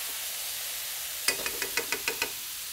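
Kimchi frying in a pan for kimchi fried rice (kimchi bokkeumbap), giving a steady soft sizzle that gives way to a quick run of about seven spatula knocks and stirs against the pan, with no talking.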